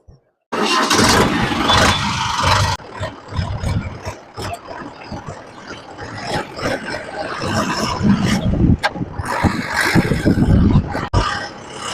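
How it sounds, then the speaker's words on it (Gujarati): A Mahindra Yuvo Tech Plus 585 DI 4x4 tractor engine roars loudly and steadily close by for about twelve seconds, dipping briefly after the first few seconds and then carrying on with some clanks and bumps as it runs. "હાલો આપણે આ ટ્રેક્ટર હાંકવીએ છીએ,"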